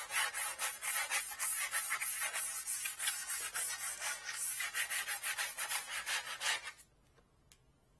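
A light scuffing of a 3D printer bed surface to prepare it for a 3M adhesive heater pad, quick repeated rubbing strokes heard close up for several seconds before stopping abruptly, followed by near silence with one small tap.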